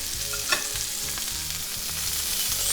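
Pork tenderloin medallions sear hard in a very hot pan, giving a steady, loud sizzle with a faint crackle and some occasional stirring noise, with no voices.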